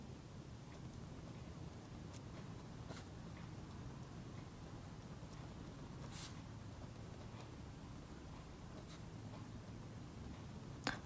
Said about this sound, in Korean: 이 표현은 과장된 표현이다 라고 써볼게요